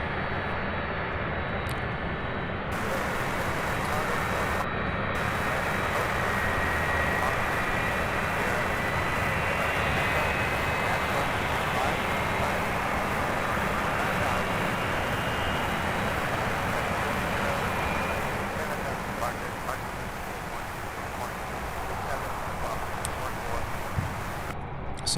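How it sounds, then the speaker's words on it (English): A UPS Airbus A300 freighter is pushed back at Louisville's UPS Worldport, giving a continuous, moderately loud engine drone and broadband hum that swells slightly and then eases off, with light background noise around it. "our first A300 pushback. This is the one here heading to Sacramento"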